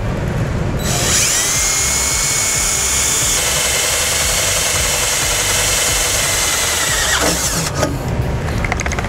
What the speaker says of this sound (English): We're going to take a 7/32 drill bit and drill a hole.